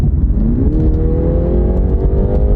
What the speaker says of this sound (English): Sounds better than most 4-cylinder engines do.